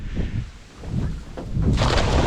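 Gusty wind blows across a Siberian river during late-autumn boat fishing, rumbling into the microphone and rising stronger toward the end.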